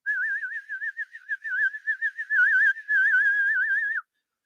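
A person whistles a warbling, trilling tone imitating a Star Trek tricorder, a steady wavering pitch sustained for about four seconds in short bursts, close and clear with no other sound.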